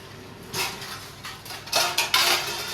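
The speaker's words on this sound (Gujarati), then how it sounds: "આપણે રાખીશું આ ધોવામાં એટલે પછી આ ધોવાઈ જાય બધા વાસણ" Dishes and utensils clatter and clink as they are washed in a home kitchen, in short bright bursts that grow busier and louder toward the end, with no talking.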